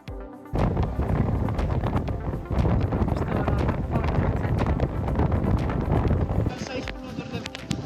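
Wind from a storm at sea buffeting a sailboat, loud gusting roar and microphone rumble with rushing, rustling texture, continuous after a quiet start, with a voice speaking over it.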